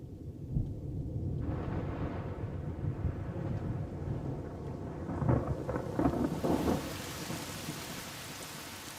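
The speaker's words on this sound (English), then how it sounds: "On the Masai Mara, the storms of October approach." An October thunderstorm rolling in over the Masai Mara, with steady rain hissing on surfaces and low thunder rumbling beneath it, growing brighter and more intense toward the end.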